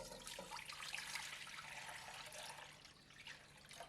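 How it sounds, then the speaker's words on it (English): Water runs from a tap into a steamer pan on a stove, a soft continuous splashing and trickling stream that fades slightly toward the end, heard close by and alone. "fill it with water"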